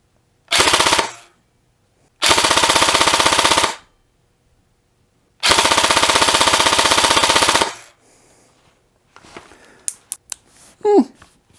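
A Matrix Sportsline G3 M4 airsoft gun fires on full auto from a 9.6V battery in three loud, rapid bursts, each a dense mechanical rattle lasting one to two seconds. Quieter handling clicks and rustles follow the final burst.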